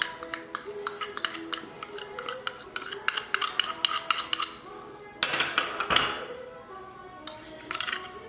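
A metal utensil clinks and scrapes against a dish, mixing chicken, potato, ginger, cumin and spices in quick bursts of rhythmic tapping, with short pauses and one longer scrape near the end.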